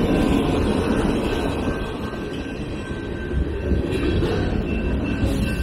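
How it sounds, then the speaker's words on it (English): A train passes in Tennessee, a loud continuous rumble of rolling wagons with rattling wheels and a faint high squeal, swelling slightly toward the end. "Tennessee train."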